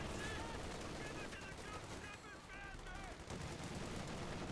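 Delayed-fuse high-explosive artillery barrage blasts in a video game, heard as dense, continuous rumbling bursts and crackle, with whistling tones and chatter running over them throughout.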